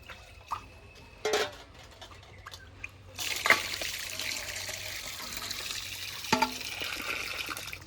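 Fish pieces rinsed under running water for a bitter-gourd fish curry, a soft steady trickle and splash with a few louder drips and clatters, close and moderately quiet, no talking.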